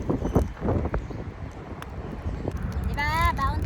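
Strong wind gusts outdoors by the sea in the UAE, a steady broad rush buffeting the microphone throughout, with people talking over it and a brief bird-like chirp near the end.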